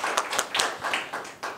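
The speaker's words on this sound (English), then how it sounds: "please give a round of applause to Dr. Katerina Zalamova." Applause from a conference audience, a short burst of scattered hand claps, moderately loud and fairly near, with no talk over it.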